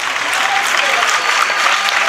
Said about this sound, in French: l'équipe de France universitaire qui applaudit à son tour le public qui l'a soutenu tout le long